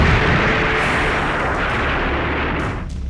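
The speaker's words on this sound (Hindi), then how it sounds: "वीडियो में साफ साफ दिख रहा है कि किस तरह पटाखे और वहां रखे बारूद एक एक कर फट रहे हैं।" Firecrackers and stored gunpowder blow up in a powerful blast, a loud, continuous roar of explosions with overlapping bangs that hold at full intensity and only begin to fade near the end.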